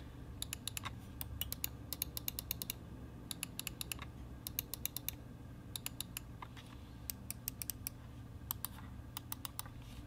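Logitech G502X Plus gaming mouse clicking and scrolling: quiet, rapid bursts of light ticks in irregular clusters over a low steady background hum, with no talking.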